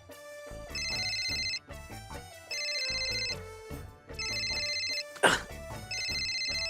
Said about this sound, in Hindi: आपका मोबाइल फोन है, उस पे किसी का फोन आ रहा है